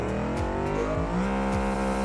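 A budget drag car engine in BeamNG bogs at launch, droning low and strained with rising pitch steps as it labours to pick up speed, loud and steady throughout.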